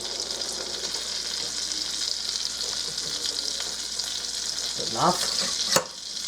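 Ground hamburger sizzles steadily in a pan as flour is stirred in for gravy, a continuous frying hiss with soft scraping, a brief spoken word near the end and a sharp clink.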